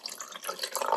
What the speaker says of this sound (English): First, you're going to pour your water into the bowl.